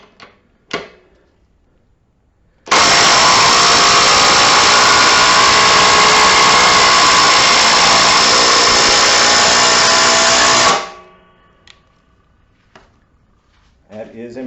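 A Ridgid power tool drives a half-inch, 8-inch-long fastener in one loud, steady burst lasting about eight seconds, with brief faint talk and handling noises before and after.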